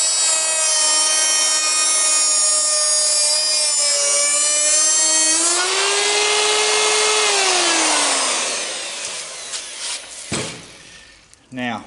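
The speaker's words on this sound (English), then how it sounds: "We've got our board grooved with the router." A router cuts a groove in a wooden board for a double-sided whiteboard, a loud sustained whine that drops in pitch under load, then spins down and ends with short knocks.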